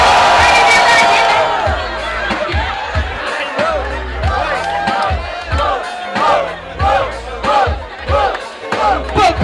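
Crowd at a Brazilian freestyle rap battle cheering, whooping and shouting loudly in waves, with an amplified voice calling out to the audience over the roar.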